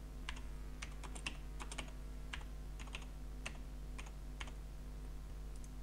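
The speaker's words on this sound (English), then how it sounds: "double left click and start typing a text" Keys on a computer keyboard tapped while typing a comment in the vvvv visual programming software, quiet irregular clicks in short bursts over a steady low hum, with no voices.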